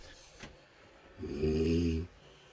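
A low, rumbling snore on one long breath, fairly close, over a quiet background hum.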